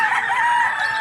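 A rooster, a white chocolate-coloured bird brought for sale at the Lipa City, Batangas livestock auction market, crows in one loud, sustained, strained call that fills the whole moment, close by and with no talking over it.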